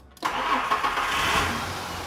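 A truck engine cranks briefly and catches, then settles into a loud, steady running rumble close by.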